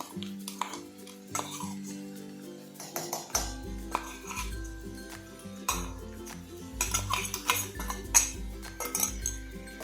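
A spoon scrapes and clinks against a pan while masala is stirred into chopped capsicum, irregular metallic taps and rattles over about ten seconds with a faint background tone.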